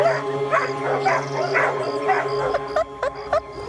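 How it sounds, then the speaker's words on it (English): Dogs at a prison K9 unit give short yips and whimpers, several brief calls close by over a steady indoor hum, with a few sharper barks near the end. "At the K9 unit, Teddy keeps his morale up by spending time with the dogs he raises"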